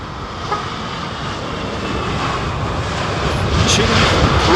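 An airliner landing at London Heathrow Airport gives a steady broad jet roar that slowly builds over a few seconds, heard from a distance and continuous with no talk.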